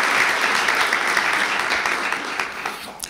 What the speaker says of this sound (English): round of applause for all of our faculty who have got publications